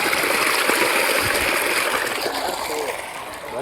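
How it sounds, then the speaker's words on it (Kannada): Water is scooped with a metal pot from a spring at a hilltop temple, giving a continuous close splashing and gurgling with small sloshes. "ಈ ಚೊಂಬಲ್ಲಿ ಒಂದೊಂದು ಚೊಂಬು ನೀರು ತಗೊಬರ್ಬೇಕು."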